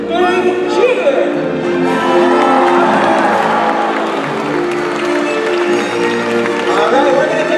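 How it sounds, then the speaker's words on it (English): An audience at a marine show cheers, whoops and applauds for a whale named Chua leaping, a loud, close burst of crowd noise with shouts mixed in. "when Chua does his jump, let's give him a great big cheer"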